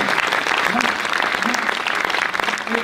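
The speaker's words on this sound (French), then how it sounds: "je propose qu'on l'applaudisse" Audience applause fills a Rotary conference hall, dense steady clapping throughout, with faint voices mixed into the crowd.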